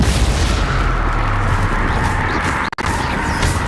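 A Confringo fire spell explodes in the Hogwarts Legacy video game, a loud roaring blast with heavy low rumble that fills the moment and cuts off sharply for an instant near the end before the noise resumes.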